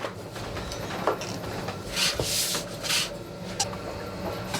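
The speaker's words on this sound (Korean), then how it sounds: "원형 막대에 감고 풀고 밀고를 반복해 반죽을 최대한 얇게 만들어낸다" A round wooden rod rolls and presses thin soba noodle dough, giving soft, dry rubbing and scraping strokes at close range, each pass swelling and fading, fairly quiet with no talk.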